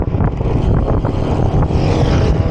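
A loud motorcycle engine drones close by on a road, a dense steady rumble with wind noise, heard during a bicycle ride.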